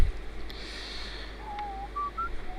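A character in the GTA 5 video game whistles a short, wavering tune of several clear rising notes over a steady low game hum, fairly close and distinct.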